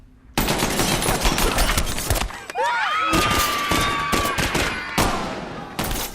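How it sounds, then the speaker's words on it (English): Dense bursts of automatic gunfire blaze almost continuously through a film scene set aboard the Snowpiercer train, loud and chaotic, with a brief lull partway as metallic ringing and whines cut through before the shooting resumes. "They open fire with loaded automatic guns hidden under the eggs."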